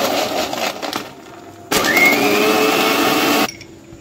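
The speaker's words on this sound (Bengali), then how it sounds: "দুধের সাথে আমি চকলেটটা ভালো করে ব্লেন্ড করে নিয়েছি।" A blender whirs loudly while mixing milk and chocolate, with a short quieter motor run first, then a louder burst of roughly two seconds before it drops back.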